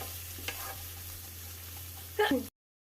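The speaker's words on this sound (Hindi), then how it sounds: "अब प्याज को मीडियम आंच पर हल्का ब्राउन होने तक ही फ्राई करना है।" Onions frying in a pan over medium heat for Indori poha, a steady low sizzle with a brief louder burst of stirring near the end before the sound cuts off.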